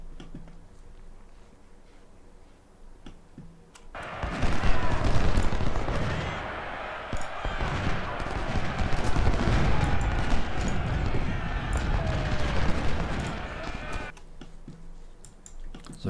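Massed musket volleys crackle in Ultimate General: Civil War at the Battle of Mansfield, a dense, sustained rattle of overlapping shots that swells up suddenly and holds for about ten seconds before dropping back to a quieter battlefield hum.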